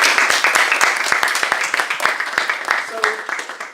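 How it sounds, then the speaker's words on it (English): Audience clapping at a talk on languages and translation services in the NHS in Leicester, a modest round of fairly close applause with distinct individual claps and some voices over it. "A little round of applause."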